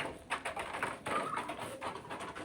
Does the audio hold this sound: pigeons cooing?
yes